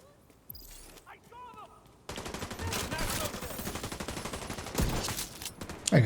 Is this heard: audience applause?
no